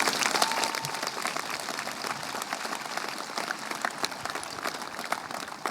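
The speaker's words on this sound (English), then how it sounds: "Give them a round of applause, please." Steady, full applause from a high school ceremony crowd honouring senior advisors and the dean, many hands clapping continuously in a large room with a faint crowd murmur beneath.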